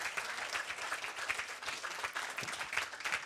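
Dense, steady audience applause at a French-language gathering welcoming a guest poet, many hands clapping together evenly and fairly close for the whole stretch with no talking over it.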